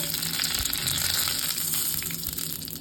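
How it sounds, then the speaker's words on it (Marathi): Whole cinnamon, cloves, cardamom and star anise fry in hot ghee, giving a loud, steady, crackling sizzle that stays fairly even throughout with no talking. "त्यामध्ये मी आता सगळे खडे मसाले घालते दालचिनी लवंग वेलची चक्रफूल"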